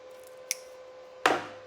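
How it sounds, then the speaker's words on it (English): Welding wire for a seesii Mig-135 inverter welder snipped close up, a faint short click followed by a sharper, louder cut, with a steady hum underneath and no talk. "Got our wire cut down."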